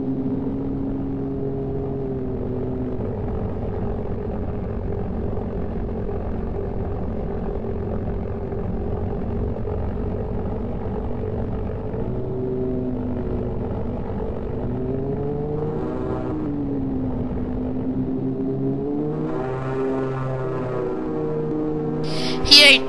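Aircraft engine in Microsoft Flight Simulator X, flown without hydraulics, droning steadily with its pitch rising and falling as the throttle is adjusted during descent.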